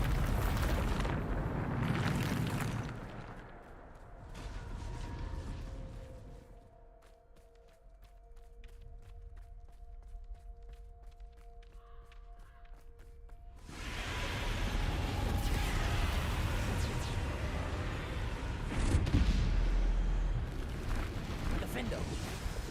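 Bombarda spell blasts from Hogwarts Legacy erupt in loud, rumbling bursts with a quieter, humming stretch between them.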